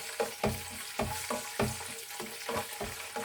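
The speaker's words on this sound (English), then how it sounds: "I'm going to put this garlic." Garlic sizzles steadily in hot oil in a pan for a chicken karahi, with periodic scraping stirs breaking through the constant frying hiss at close range.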